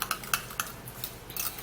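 A metal spoon stirs a mixture of onion and baking soda in a small dish, making a series of quick, light clinks and scrapes, close and fairly quiet.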